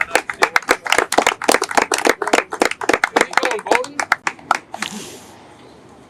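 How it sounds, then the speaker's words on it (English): Brisk, distinct clapping from a crowd at the Brian S. Dempsey Boardwalk ribbon cutting ceremony, close and fairly loud, with someone speaking briefly before the claps fade out near the end. "let's give him a round of applause"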